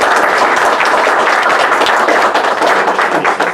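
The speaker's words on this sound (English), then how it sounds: "Round of applause." An audience at an engineering lecture applauds loudly and continuously, a dense wash of close clapping that keeps going throughout.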